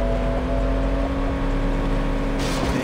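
A car drives in the 2006 game Saints Row, its engine a steady, loud droning hum with a whirring tone, sustained throughout without talk.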